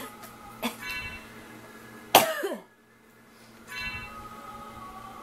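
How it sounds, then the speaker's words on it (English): A person coughs indoors during a Castlevania Symphony of the Night play session, a single sharp loud cough burst, with quieter throat sounds and game music around it. "And now I'm coughing again."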